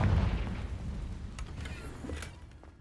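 The Confringo fire spell from the video game Hogwarts Legacy goes off as a heavy, close boom at the start, then decays into a rumbling tail with a few faint crackles and clicks, and no one speaks.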